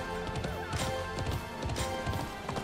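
Galloping horse hooves pound out a fast, busy clip-clop rhythm in the horse-racing video game Alicia Online, steady and fairly close over a soft background score.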